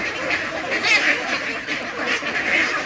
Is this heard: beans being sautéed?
no